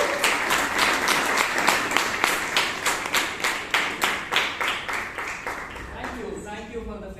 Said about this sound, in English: Thank you for the fake applause.